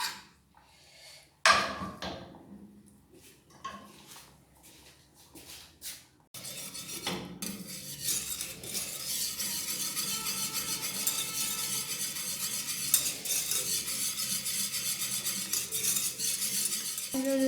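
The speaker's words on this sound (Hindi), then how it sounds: "जो हमने मैदे वाला सॉस बनाया था वो डालेंगे। इसको मिक्स करने के अच्छे तरीके से व्यूअर्स" A spoon clinks and scrapes sparsely against a pan, then a flour-thickened pepper steak sauce goes in and stirring continues under a steady bubbling hiss for the rest of the stretch.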